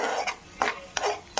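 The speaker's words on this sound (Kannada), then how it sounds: "ಸ್ವಲ್ಪ ಸಾಸಿವೆ, ಸ್ವಲ್ಪ ಕಡಲೆಬೇಳೆನ ಸೇರಿಸ್ಕೊಂಡು ನಾವು ಹುರ್ಕೋಬೇಕು" Mustard seeds and chana dal tempering in a pan for mint chutney, heard as a steady sizzle with four sharp metallic clinks of a spoon stirring against the pan, close by and without talk.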